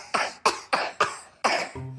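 Five quick, harsh coughs in a row, close and fairly loud, followed by a brief low vocal hum.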